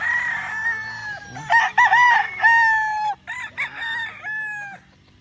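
Gamefowl roosters crow loudly and nearby at a gamefarm in Indang, Cavite, several drawn-out cock-a-doodle calls following one another and overlapping in quick succession.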